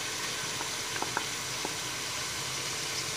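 Meat and ginger frying in a pot for aloo gosht pulao, giving a steady soft sizzle with a few faint pops and clinks, no voices.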